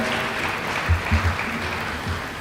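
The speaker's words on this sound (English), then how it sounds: "A round of applause to WMA Bank." An audience at a digital summit and hackathon grand finale gives a short burst of applause, a steady wash of clapping with a few low thumps, fairly close and brief.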